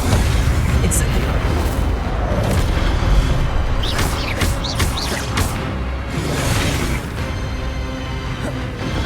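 Incendio fire spell cast in Hogwarts Legacy, a dense roaring burst with crackling pops and bright whooshing flares, loud and continuous over rumbling game effects, with voices in the mix.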